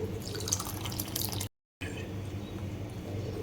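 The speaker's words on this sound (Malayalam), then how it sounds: "ഇനി നമുക്കിതിലേക്ക് വെള്ളം ഒഴിച്ചു കൊടുക്കാം." Soft trickling and dripping of water poured into rice flour for puttu, faint and close, with a brief silent gap midway before the quiet splashing resumes.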